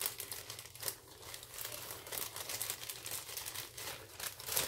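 Paper is crinkled and pushed into a diamond painting kit bag, giving continuous close, crackling rustles with irregular sharper crunches throughout, with no talking.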